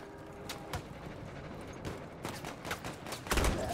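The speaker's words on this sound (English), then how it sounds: "That's a shotgun!" Shotgun blasts in the Battlefield 1 open beta, several sharp reports spaced irregularly over steady game noise, with a louder, heavier burst near the end.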